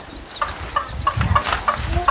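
Chickens cluck in short repeated bursts, with a few sharper higher calls mixed in, fairly close in an outdoor setting.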